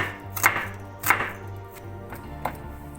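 Three crisp knife chops on a board as an onion is cut for lasagna, sharp isolated strikes spaced about half a second apart with a low steady hum beneath, close and fairly loud.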